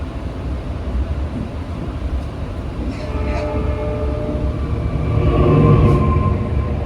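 Ranggajati train running straight through Wonokromo station without stopping, a steady rumbling roll of wheels on rail with rising mechanical hum and brief high squeals, growing louder toward the end.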